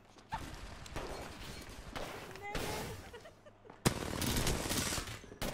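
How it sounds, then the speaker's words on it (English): Gunfire in Apex Legends cracks out as several bursts of rapid shots. The last burst is the loudest and comes after a sharp hit, with voices talking over parts of it. "How did she shoot me around the corner?"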